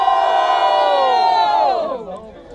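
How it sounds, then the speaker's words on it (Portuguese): Live crowd at a student rap battle semifinal roars with sustained loud cheering and shouting, a dense wall of voices that holds steady for about two seconds before fading out. "Diferentemente, barulhos, barulhos pra quem gostou das rimas do Young Black"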